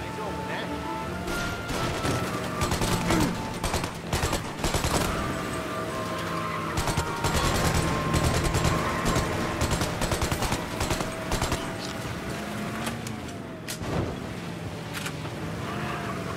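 Golden Tommy gun firing in the game Mafia Remake, repeated bursts of rapid automatic fire over ongoing engine and game noise, fairly close and loud.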